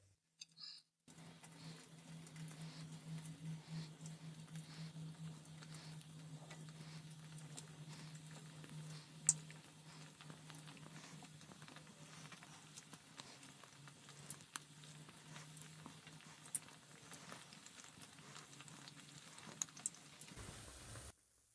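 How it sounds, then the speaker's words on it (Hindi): Afghani khajoor, sweet wheat-flour dough pieces, frying slowly in oil over medium heat: a steady, soft crackling sizzle with scattered small pops, close and continuous for the whole stretch, a low hum underneath and no talking. "अब हम इसके अंदर खजूर को फ्राई करेंगे"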